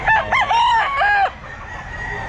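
A rooster crows loudly and close at a pet market, a single rising and falling call with a strained, warbling tail, followed by quieter background market noise.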